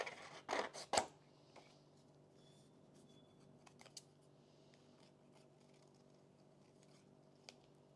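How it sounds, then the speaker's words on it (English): Scissors snipping through a floral patterned scrapbook paper, a few quick crisp cuts close by at the start, then a quiet room with faint small rustles. "So let's cut something out."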